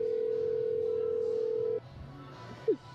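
A steady telephone ringback tone sounds while a call to Kelsey is placed, holding unbroken for nearly two seconds before cutting off and leaving quieter room noise with a brief blip.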